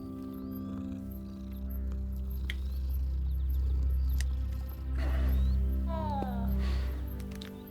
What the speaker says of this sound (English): Just gonna pet that cat again.